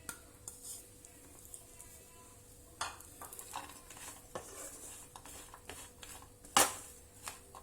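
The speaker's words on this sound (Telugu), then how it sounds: "ఇవి వేసుకొని కొంచెం ఫ్రై చేసుకుంటున్నాను" Seedless dates sizzle gently while being stirred in a pan, with soft scraping and occasional clinks of the utensil against the metal, quiet and close, with one sharper knock near the end.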